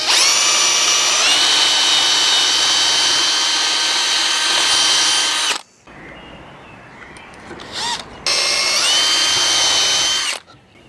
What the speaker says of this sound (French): On va maintenir le guide bien à plat dessus, et on va faire notre premier trou.